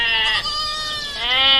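A goat bleats in a single sustained, wavering call that dips briefly and then rises again, loud and close with no other sound around it.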